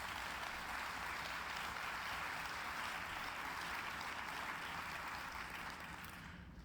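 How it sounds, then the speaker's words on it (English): A steady, dense round of applause from a large conference audience at an ALEC annual meeting, continuous and fairly distant, fading slightly at the end with no talking over it. "Another round of applause to these great Americans."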